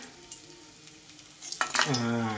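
Small fish frying in oil, a faint soft sizzle at first, then a louder burst of bubbling hiss and scraping as the fish are stirred and lifted from the pan.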